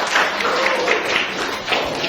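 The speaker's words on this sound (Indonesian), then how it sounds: "Tepuk tangan untuk kita semua" Schoolchildren in a classroom applauding together, a short burst of dense, fairly loud clapping with rhythmic pulses and no talk over it.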